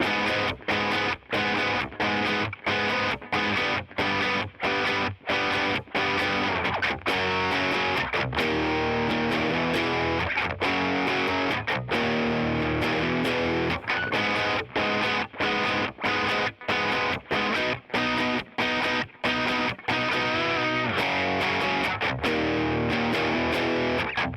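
Distorted electric guitar plays the bridge of a title track at a slow tempo, a dense, sustained wall of overdriven chords broken by short rhythmic stops, loud and continuous with no talking.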